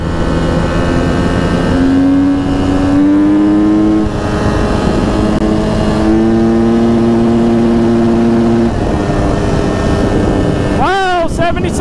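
A Husqvarna FC250 dirt bike engine revs hard and loud, close up. Its pitch climbs through long held pulls that sit near the rev limiter, with brief dips at gear changes and a rising snarl at the end.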